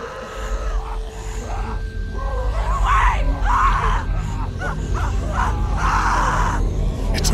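A girl screams and yells in distress in The Walking Dead video game, a loud, sustained, wavering cry over low rumbling background noise, close and continuous for several seconds.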